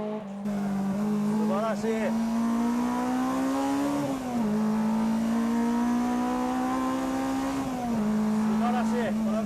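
A Mazda RX-8 with a rotary engine accelerates hard on a race track, its loud, steady high-pitched engine note rising through gears with brief dips at shifts, while someone speaks over it.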